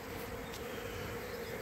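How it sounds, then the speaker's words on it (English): Honeybees fanning outside the hive entrance give a steady, low buzzing drone that holds evenly throughout, faint and fairly close, with no speech over it. "We've got bees outside fanning."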